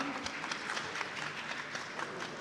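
Applause welcoming Gorakhpur MP Ravi Kishan onto the stage at a televised political forum, a quiet, steady crowd clapping with scattered individual claps, heard alone without speech.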